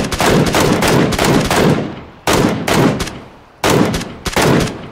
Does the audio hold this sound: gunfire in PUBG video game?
yes